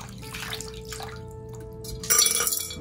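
Crystals rinsed under running tap water, with soft trickling and dripping that bursts into a louder splash near the end, no voices.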